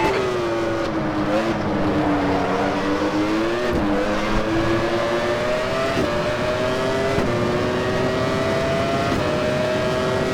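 A 1996 Formula 1 car at Interlagos in a racing simulator, its high-revving engine screaming loud and continuous in the cockpit view, with the pitch rising through the gears and dipping sharply at each upshift.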